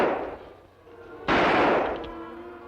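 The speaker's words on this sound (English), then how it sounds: "Shots, Tonto." Gunshots ring out in a Lone Ranger episode: a dull report at the start, then a sharp, loud crack with a ringing tail, with faint talk underneath.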